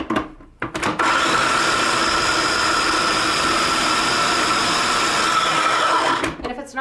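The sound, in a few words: food processor grinding food with a little water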